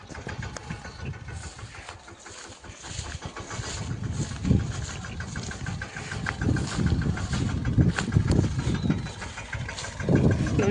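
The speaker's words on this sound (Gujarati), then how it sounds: "મામા લઈ જાય હવે બીજા ખેતરે ટ્રેક્ટર." Farm tractor engine rumbling as it drives between fields in an Indian village, a steady chugging idle that swells and pulses louder toward the end, heard alone and fairly close.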